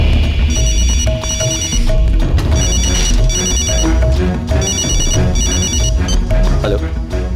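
A telephone rings repeatedly in a rapid electronic trilling pattern, loud and insistent in bursts, within a Hindi-dubbed action film scene, with a voice briefly audible underneath.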